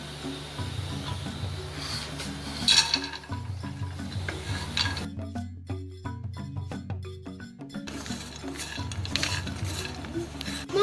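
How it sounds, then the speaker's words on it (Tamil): Cubes of chapati fried and stirred in a pan, with a soft oil sizzle under repeated scraping and clinking of a spatula against the pan, quiet and close, pausing briefly midway before stirring resumes. "இப்போ இதை ஃப்ரை பண்ணி போட்டு அது கூட மிக்ஸ் பண்ணலாம்"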